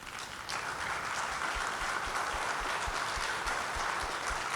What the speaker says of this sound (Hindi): एक बार जोरदार तालियां नवदीप के लिए